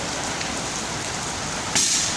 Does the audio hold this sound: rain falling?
yes